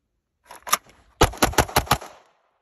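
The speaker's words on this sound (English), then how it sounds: "I'm shooting a five-shot string" Gunfire cracks out in a brief string: two quieter early shots followed by a quick, evenly spaced burst of sharp, loud reports, then silence.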